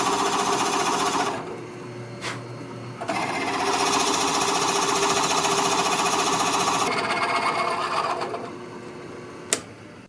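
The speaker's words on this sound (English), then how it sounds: "Drill that through as far as we can go." A drill at slow speed bores through wood for a rustic water wheel, a steady loud grinding whir running almost throughout with a couple of short dips and a sharp click near the end.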